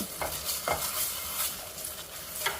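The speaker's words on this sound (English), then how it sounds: "you want to cook the tomato paste a little bit" Tomato paste cooking in a pan sizzles steadily while a utensil stirs it in several distinct scraping strokes, close and moderately loud.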